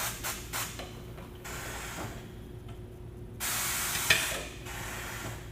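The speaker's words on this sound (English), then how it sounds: "So that pushed the edge of my tire down, so now I can grab hold of the tire bead" On a tire machine, the pneumatic assist arm presses an alloy-rim tire's edge down, giving short air hisses and a longer burst of spraying air with faint mechanical clicks, moderately quiet and close.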